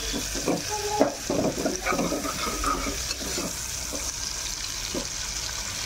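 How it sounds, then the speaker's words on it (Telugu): Food sizzling and frying in a pan while a home cook stirs it, a steady close crackle with occasional scraping clinks. "సో కొంచెం ఫ్రై చేసుకుందాం"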